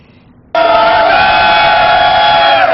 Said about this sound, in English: the crowd was energized tonight, as you can hear, both sides for this interesting matchup